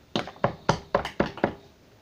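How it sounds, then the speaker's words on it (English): Six evenly spaced knocks on a door, close and fairly loud, heard alone with no talk. "someone knocked on the door"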